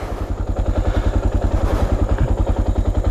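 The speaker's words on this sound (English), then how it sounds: "It's starting to putter. So it's starting to struggle a little bit." A Suzuki DR650 motorcycle engine puttering at low speed while climbing a small hill, a steady rapid thumping pulse with mechanical clatter, close and fairly loud.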